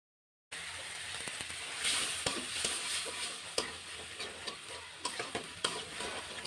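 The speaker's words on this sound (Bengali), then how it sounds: "মশলাটা ভালোভাবে কষে নিব তেল ছাড়া আসা পর্যন্ত" Ginger, garlic, cumin, turmeric and green chilli paste sizzles in hot oil for an egg dish, a steady crackling fry broken by repeated scraping strokes of a spoon stirring in the pan.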